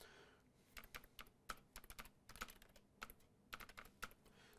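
A computer keyboard is typed on in short bursts of crisp clicks, soft and close, with a brief pause between keystroke groups.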